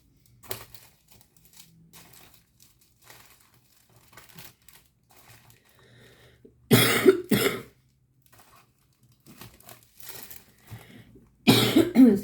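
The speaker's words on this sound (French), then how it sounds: "Je tousse, ça va pas être très agréable pour vos oreilles." A person coughs twice, harsh bursts spaced several seconds apart, with quiet paper rustling and faint handling noises between them in a small indoor space.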